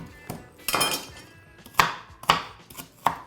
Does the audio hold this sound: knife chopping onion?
yes